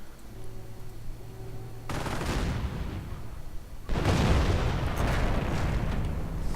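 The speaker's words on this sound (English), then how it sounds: "this one is taking heavy Panzer fire" Heavy WWII video game battle with Panzer tank fire and gunfire: a low rumble first, then sudden loud bursts of dense firing and explosions that step up in intensity and keep going.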